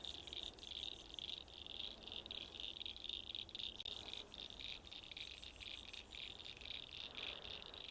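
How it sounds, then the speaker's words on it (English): Frogs calling near a small pool of dirty water, a steady dense chorus of high rhythmic chirps mixed with insect-like trilling, faint and continuous outdoors. "Can you hear some frogs?"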